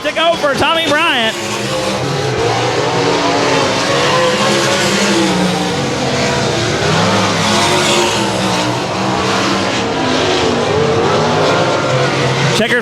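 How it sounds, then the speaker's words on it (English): Race cars lap Cotton Bowl Speedway, their loud engines roaring and droning nonstop, with revving swells as cars pass, while an announcer talks over the noise throughout. "Should be coming a white flag this time by. 1 more lap to go for Tommy Bryant."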